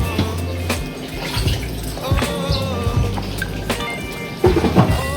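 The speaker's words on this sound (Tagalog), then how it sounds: "Yan, konting kulo na lang yan guys." A pot of pork leg stew (lomo pata) bubbles toward a boil, with close, loud watery burbling, irregular pops and splashes over a steady low rumble, with no talking.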